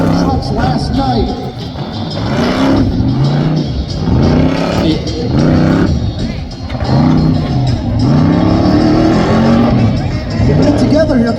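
Rough trucks racing at night at a track in Red Bluff, California, engines roaring and revving steadily as they round the final turn, with a loud announcer and crowd noise over the motors throughout.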